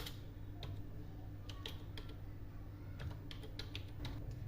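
Keystrokes on a computer keyboard while filling in a resume in MS Word, a quick irregular run of close, crisp clicks with brief pauses between bursts, alone with no voice.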